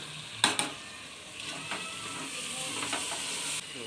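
Blended tomato paste hits hot oil in a farm chicken curry with a sharp hissing burst, then a steady sizzle continues under clinking and scraping stirring before cutting off.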